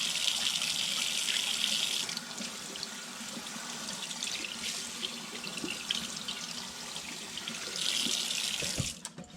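A kitchen sink tap runs cool water over cured steaks as they are rinsed, a steady close splashing gush with shifting tone that stops abruptly at the end, with no speech.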